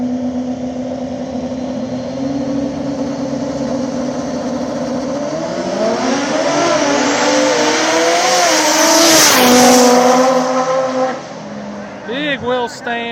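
At a small-tire drag race in Ohio, an all-wheel-drive DSM and a Nova launch with loud, rising engine roars that climb in pitch and peak together, while a commentator talks over the noise.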